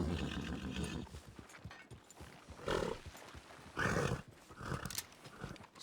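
A horse neighs in the Red Dead-based roleplay game WildRP, with loud whinnies rising through a busy stretch of game noise and ambient sound, repeated a few times across the clip.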